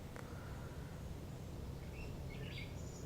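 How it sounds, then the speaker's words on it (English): Birds sing outdoors in the distance: a few faint, high chirps and short trills over a quiet, steady background hum. "you can hear the birds in the background"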